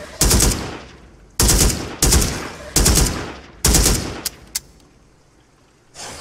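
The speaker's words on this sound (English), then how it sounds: "this one's shooting at me" Enemy gunfire in the VR shooter Immortal Legacy: The Jade Cipher: five loud, close bursts of automatic fire in uneven succession, each decaying quickly, followed by two sharp isolated shots and a final burst starting at the end.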